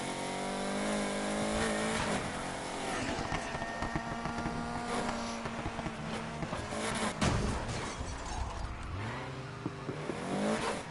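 A Volkswagen Golf drag car in Need for Speed Heat runs its engine continuously, idling rough and then revving with rising and falling tones and a sharp burst midway, loud and close with no talk.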